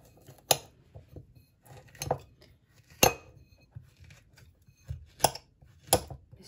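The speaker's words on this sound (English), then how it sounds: "This is the weirdest way of chopping a banana up." A knife chopping a banana, done without a chopping board: a handful of sharp, irregular clicks and clinks with quiet pauses between them, close and fairly faint.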